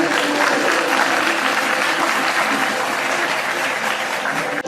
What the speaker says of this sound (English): Give them a big round of applause, all of you.